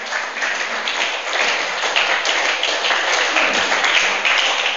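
A crowd applauds steadily, a dense, even wash of many hands clapping at once, sustained without pause and fairly loud.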